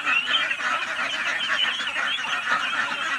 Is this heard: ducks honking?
yes